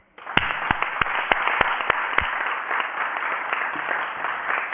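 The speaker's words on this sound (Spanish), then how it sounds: "os pediría un aplauso a nuestro Centro Asturiano de Barcelona" Audience applause for the Centro Asturiano de Barcelona at an anniversary event, starting abruptly with loud individual claps that merge into sustained, even clapping from a room of people, with a steady electronic hum running underneath.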